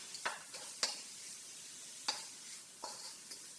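Onion sautéing in butter gives a quiet, soft sizzle broken by a few sharp clicks and scrapes of a utensil against the pan, close but faint, with no talking.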